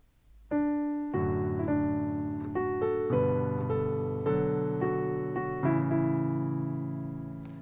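A slow piano melody in D pentatonic, single notes struck one after another with sustained ringing, each note spaced about half a second apart.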